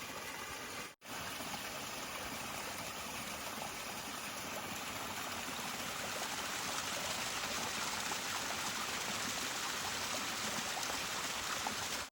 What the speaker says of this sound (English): there's a stream down there